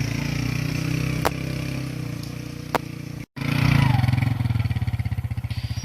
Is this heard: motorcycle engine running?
yes